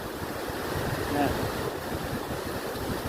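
Strong wind buffeting the microphone on the coast at Claveria, Cagayan, a steady broadband roar with faint surf beneath and a brief gust swelling partway through, with no one talking.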